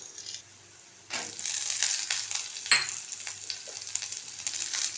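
Red chillies and onion fry in a pan, bursting into a steady close sizzle after a brief quiet start, with a sharp clink of a utensil partway through.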